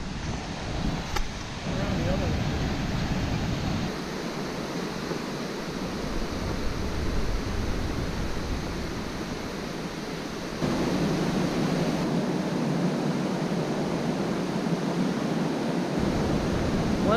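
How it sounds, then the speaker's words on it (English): A steady, broad rush of falling water roars continuously from a waterfall on the Presque Isle River near Lake Superior, Michigan, with wind buffeting the microphone and no clear voices. "so that's the first waterfall, closest to Superior"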